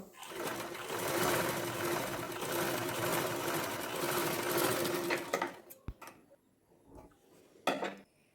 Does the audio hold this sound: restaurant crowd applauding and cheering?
no